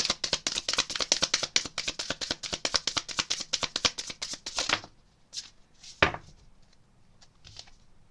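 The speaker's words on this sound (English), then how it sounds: "Sorry about the loud shuffling." Tarot cards shuffled loudly and rapidly in a steady rhythmic riffle for about five seconds, then a few scattered card taps and a sharp slap in near silence.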